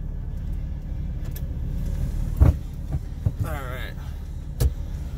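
A 2004 Jeep Wrangler Sahara drives at low, steady engine rumble, with a few thumps and a brief mechanical whir partway through, and voices are faintly present.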